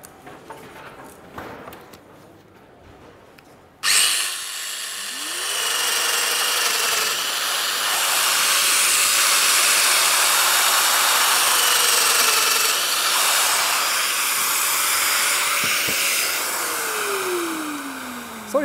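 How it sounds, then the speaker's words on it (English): A Festool milling machine bores holes into a wooden cross-section, cutting in with a loud, steady high whine that holds for about fifteen seconds after a few quieter handling knocks. "Now we will mill these two holes into this cross-section"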